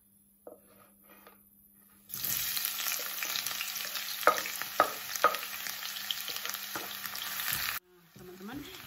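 Oil sizzles and crackles steadily as shallots fry in a preheated wok for Balinese sambal embe, with a few sharper pops and stirring clinks, starting after a quiet moment and cutting off near the end.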